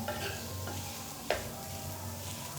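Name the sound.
potatoes frying in oil with chillies for batata vada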